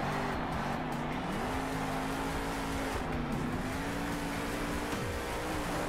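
Monster truck engine in the video game Monster Jam Steel Titans 2, a loud continuous roar with pitch climbing as it speeds up, then dipping and rising again, alone without talk.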